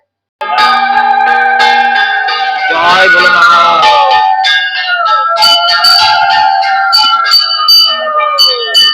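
A temple bell rings repeatedly with bright metallic tones and lingering overtones, struck close by while a voice briefly chants over it.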